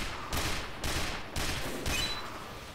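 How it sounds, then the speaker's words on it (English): Gunfire aimed at a sniper in the video game Team Fortress 2: a series of about five evenly spaced, loud shot bursts, each with a short decaying tail. "And kill this sniper by shooting him."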